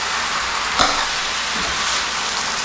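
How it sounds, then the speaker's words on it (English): Mutton with salt sautés in a pot for curry, producing a loud, even hiss of frying with a single sharp utensil clatter partway through. "Saute well for around 1 to 2 minutes."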